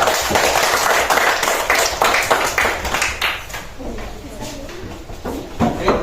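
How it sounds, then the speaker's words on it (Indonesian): Classroom applause for a group of students during a teaching performance test, a few pupils clapping in loose bursts that thin out and fade, with a voice talking over parts of it. "tepuk tangan untuk kelompok 2"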